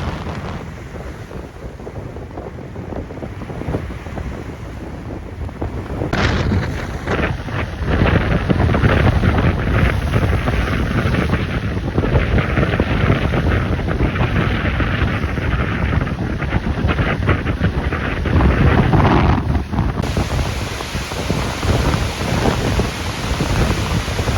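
Strong storm wind in Jaffna roars steadily into the microphone, a loud, constant rushing buffet that gusts harder midway before easing slightly.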